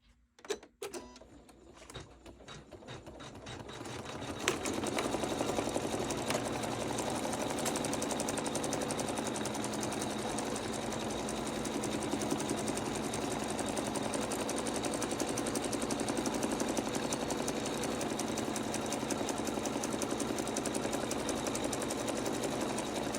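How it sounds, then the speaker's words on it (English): A sewing machine runs a zigzag stitch around the edge of a fabric appliqué on a snowman rope ornament, starting with a few short bursts before settling into a steady, rapid mechanical whirr close to the mic. "Now we'll do the zigzag."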